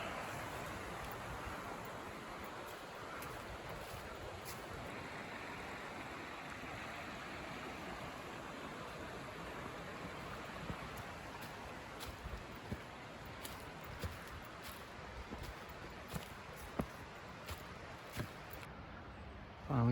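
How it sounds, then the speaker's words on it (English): A creek with small waterfalls on a state park loop trail gives a steady, broad rushing wash that continues unbroken for the whole stretch, faint to moderate, with a few light clicks near the end. "Over here is the creek."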